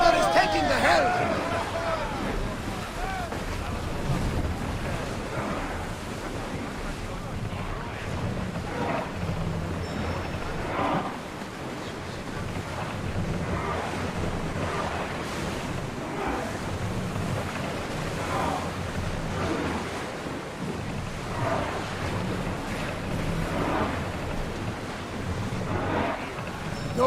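Ship under sail on open ocean waves in Assassin's Creed Odyssey, a steady rushing wash of water and wind with rhythmic swells, continuous and fairly loud, with voices talking over it.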